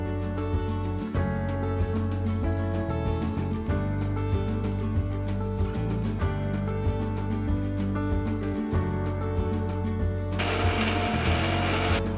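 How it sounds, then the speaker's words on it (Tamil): A mixer grinder grinding coconut whirs loudly and steadily, its motor pitch shifting as it grinds, then a brief burst of harsher, noisier grinding near the end. "அதுக்கப்புறம் தேங்காயை மிக்சியில் அரைச்சி தேங்காய் பால் எடுத்து வச்சுக்கிறேன்."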